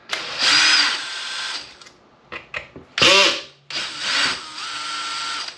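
A cordless power drill backs screws out of a 4S Outcast RC car's steering and receiver box, with several bursts of whirring: a long run, short stuttering pulses, then two more sustained runs, close and loud.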